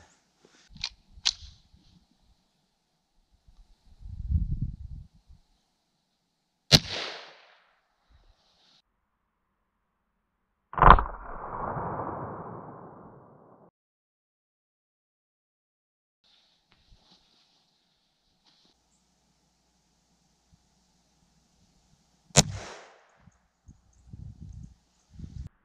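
Gunshots from .22 WMR (22 Magnum) rounds fired into ballistic gel blocks, a few sharp isolated reports spaced several seconds apart with quiet gaps and faint handling noise between them.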